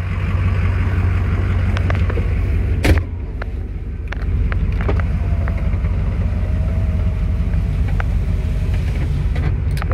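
2006 Ford F-350 SRW King Ranch 4WD with a 6.0L Powerstroke diesel drives through its gears, a steady low engine drone filling the cabin with one brief louder thump partway through.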